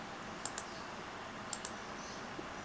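Keyboard and mouse input while drawing in BricsCAD CAD software: two quick pairs of light clicks, a spacebar press and a mouse click, soft and close over a low background hiss.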